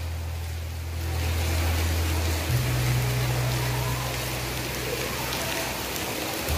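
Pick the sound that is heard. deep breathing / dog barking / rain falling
rain falling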